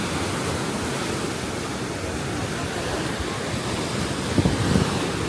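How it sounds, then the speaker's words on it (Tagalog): Strong ocean waves surging on a coast in Kaohsiung, Taiwan, a loud, steady broadband roar of surf and wind that swells slightly near the end, with no voices. "Grabe, ang lakas ng alon ah."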